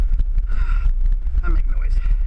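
A man grunts and breathes heavily with effort while riding uphill on a quad, close to the microphone, over steady wind rumble and mechanical noise.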